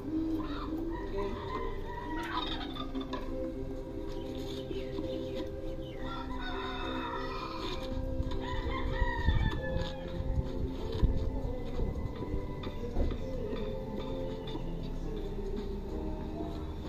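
Chickens cluck and crow now and then through a noisy outdoor background, with a steady hum and rustling throughout.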